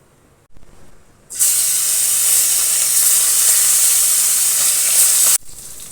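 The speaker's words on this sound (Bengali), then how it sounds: "তেল গরম হয়ে গেছে, এবারে তো মাছ দিয়ে দেবো।" Loud, steady sizzling hiss of khoira fish frying in hot mustard oil starts abruptly after a few quiet seconds and holds for about four seconds before cutting off.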